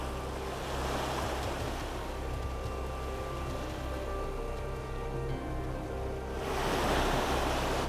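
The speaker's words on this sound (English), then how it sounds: "The water is very loud here as well." Loud rushing water in Final Fantasy XIV, a steady surf-like roar of waves with a thin layer of game sounds underneath, swelling louder toward the end.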